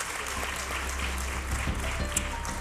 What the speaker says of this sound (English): Please give them a big, big round of applause and thank them for their work.